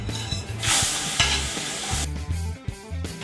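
Diced large Spanish sweet onion and green pepper hiss and crackle as they hit a hot gumbo roux, with a steady sizzle broken by a stirring spoon scraping and knocking the pot.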